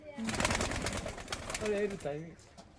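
Bangladeshi high-flying pigeons coo at a loft, low rolling calls rising in short bursts amid busy background noise, with a voice talking over them.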